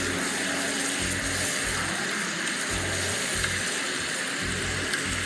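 Mixed vegetables sautéing in a pan with a splash of water added, a steady close sizzle and hiss throughout, with no talk.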